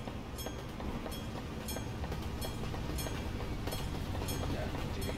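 A train rolls past in the truck-driving game Euro Truck Simulator 2, a steady dense rumble with repeated clicking wheel beats over continuous low engine noise.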